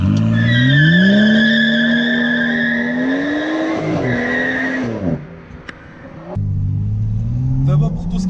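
A BMW 435i coupé with a six-cylinder engine is driven hard: a loud, close engine note rises and holds in pitch, dips briefly as if shifting, then pulls again, with tire squeal mixed in.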